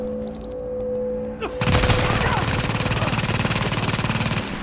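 Sustained automatic gunfire in The Division erupts abruptly after a quiet moment with a few tones, then keeps hammering in a fast, even rhythm of loud shots to the end.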